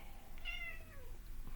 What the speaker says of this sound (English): the cat would like attention